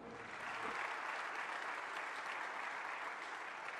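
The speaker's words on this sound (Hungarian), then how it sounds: "Ferenc pápa beszédét sokszor szakította meg taps" Sustained applause fills a large hall during Pope Francis's speech, a steady dense clapping from a big audience that holds at an even level throughout with no speech over it.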